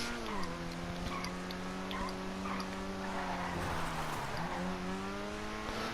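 A Grotti Itali RSX hypercar in GTA Online braking hard from high speed, the engine note dropping sharply with some tire squeal, then the revs climbing again; someone talks over it.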